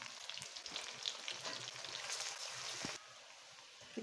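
Ginger dropped into hot oil with whole cumin, bursting into a bright close sizzle that runs for about three seconds, then drops to a quieter hiss.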